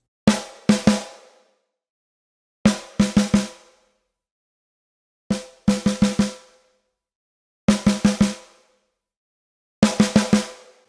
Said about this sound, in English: So you can hear that changes the way the snare sounds